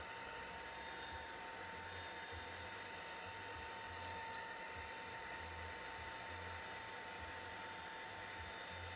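A heat embossing tool blows steadily to dry a damp embossed stamped card, giving a continuous close whirring hum with a faint fan drone that stays even throughout, with no voices.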